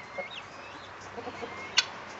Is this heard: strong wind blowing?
no